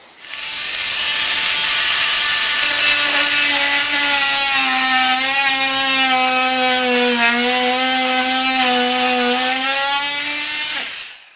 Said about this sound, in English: Now I'm cutting just so deep to make sure that I don't hit any wires behind there.